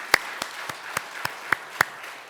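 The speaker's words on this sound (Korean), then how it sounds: "박명순 선교사님 박수 한번 해주시기 바랍니다" A small church congregation at a New York service claps for a missionary, with seven or eight sparse, separate claps spaced evenly and sounding close and moderately loud.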